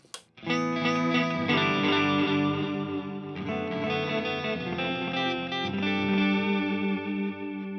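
Sustained distorted guitar chords through a TC Electronic 2290P delay set to 100% feedback, dense repeating echoes piling up and smearing together, a long wash of delayed sound with no pauses.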